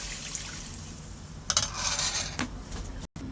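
Water is poured into a pan of bottle gourd curry, a splashing, trickling pour that surges for about a second and then tapers off, with faint clinks of the pan and utensils nearby.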